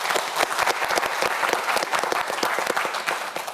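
Studio audience on a televised student quiz show breaks into loud, sustained applause, dense clapping filling the whole stretch without a break.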